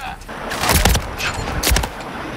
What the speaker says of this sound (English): I'm taking fire! Bullets!